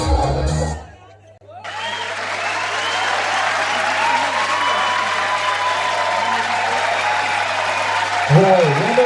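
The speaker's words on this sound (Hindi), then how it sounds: "एक बार जोरदार ताली होनी चाहिए" Loud, sustained applause from a large audience at a college engineering farewell performance fills the room for several seconds after a short break, with scattered cheers and voices near the end.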